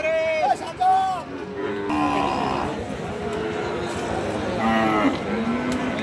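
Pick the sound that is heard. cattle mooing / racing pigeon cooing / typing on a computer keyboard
cattle mooing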